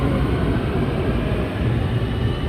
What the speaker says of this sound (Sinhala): ට්‍රේන් එක යනවා පොඩි වෙලාවයි ඉන්නේ